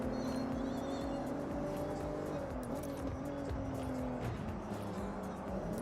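A yellow stock car in a racing video game revs through quick gear changes, its engine note rising and dropping steadily over a continuous roar, with brief tire squeal.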